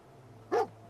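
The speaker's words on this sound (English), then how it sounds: "What are you barking at?" A single short dog bark from the game Fallout 4, clear and fairly close, over a faint steady hum.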